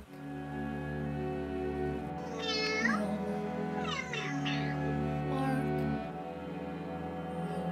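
A cat meows a few times, drawn-out rising and falling cries over a steady low hum, close by.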